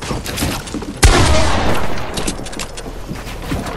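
Bursts of rapid gunfire in Fortnite, with a sharp loud volley kicking in about a second in amid ongoing game noise and scattered shots, close and dense.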